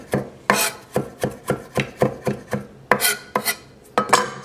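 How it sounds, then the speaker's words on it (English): A knife chops parsley on a cutting board in quick, sharp strokes, about a dozen crisp taps in an irregular rhythm, close up with no talking. "And also, I'm chopping a little bit of the parsley."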